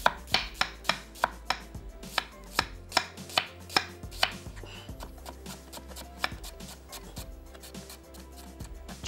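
A knife chops onions on a board in a quick, even run of sharp, close taps. The taps slow and thin out toward the end, with no one speaking.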